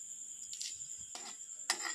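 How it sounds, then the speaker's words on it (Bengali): Bay leaves and whole cumin seeds frying in hot oil, a steady high sizzle with a few brief bursts of spattering and stirring, close and fairly quiet, no one talking. "জিরের তেজপাতাটা একটু লাল করে ভেজে নিয়েছি"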